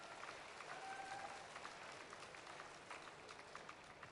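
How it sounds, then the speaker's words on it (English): Audience at the Golden Shears shearing championship final day claps warmly for the young shearers before a presentation, a steady roomful of hands sustained throughout, moderately distant, with a faint whistle early on. "give them a great warm applause there before the presentation is made"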